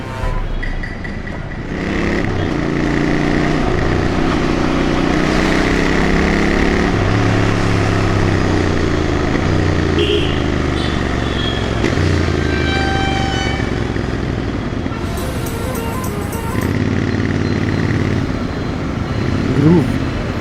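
A Jawa Roadster motorcycle rides through Bangalore traffic, its steady engine drone running loud and continuous throughout alongside other traffic noise, with a voice talking over it.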